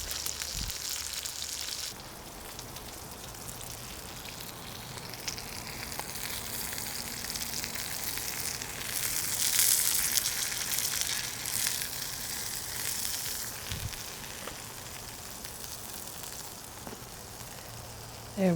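Steak sizzling over a campfire while camping in the Pacific Northwest: a steady, close crackling sizzle with occasional pops and fire crackles, continuous for the whole stretch and swelling slightly in the middle.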